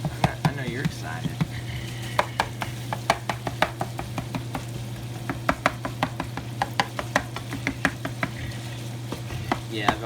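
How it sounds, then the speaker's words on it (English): Sausage being chopped on a board during breakfast casserole prep, a steady run of sharp knife taps over a constant sizzling hum of food frying in a pan nearby. "me chopping up some sausage over here"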